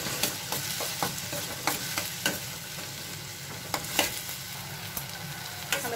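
Tomatoes fry with salt in a pan, giving a steady close sizzle broken by regular sharp clicks and scrapes of stirring.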